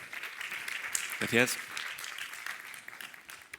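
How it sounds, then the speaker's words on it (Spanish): Audience applause at a conference greets two speakers taking the stage, steady clapping from a crowd throughout, with a brief spoken word of thanks heard over it midway. "pido un aplauso para ellos dos"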